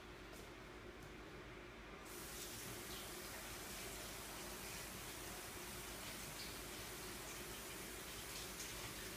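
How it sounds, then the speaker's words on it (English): Tap water runs steadily over a small spoon being rinsed while making matcha tea, a faint, even hiss of flowing water that swells slightly after a couple of seconds and continues without pause. "I'm gonna give that a little bit of a rinse now."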